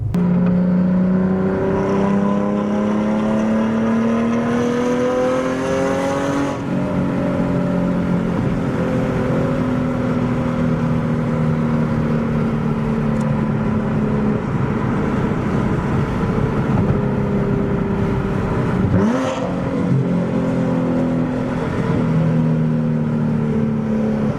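Car engine with Motordyne Art Pipes exhaust drones steadily from inside the cabin, its pitch rising and falling through gear changes, with quick automatic rev-match blips between shifts.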